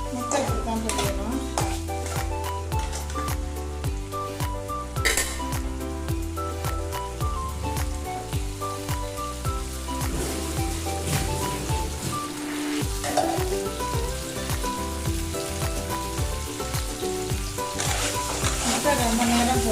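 Four eggs fry in chili paste in a pan with a steady sizzle that runs the whole time, set under loud, continuous tonal background music.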